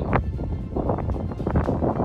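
Gusty wind on a mountain slope buffets the microphone in loud, rumbling bursts, roaring steadily with no voices.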